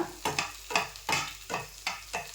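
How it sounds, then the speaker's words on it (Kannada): A potato and egg mixture stirred in a hot pan: a steady series of about seven scraping spoon strokes, roughly one every third of a second, over a faint sizzle, close and alone. "ಈ ಟೈಮಲ್ಲಿ ನಾನು ಎಲ್ಲವನ್ನು ಒಟ್ಟಿಗೆ ಮಿಕ್ಸ್ ಮಾಡ್ತಾ ಇದ್ದೇನೆ"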